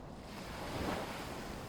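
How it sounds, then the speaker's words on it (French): Gentle lagoon waves roll in across a reef in a steady, continuous wash of surf, soft and even with a slight swell in the middle and a faint breath of wind behind it. "Les vagues arrivent du large, traversent le récif, arrivent jusqu'à vous, douces,"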